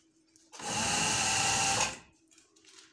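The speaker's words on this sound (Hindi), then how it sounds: "यहाँ पे बिल्कुल सीधी सिलाई लगानी है" A sewing machine stitches a shirt in one steady, close whirring run of about a second and a half, starting and stopping abruptly against a quiet room.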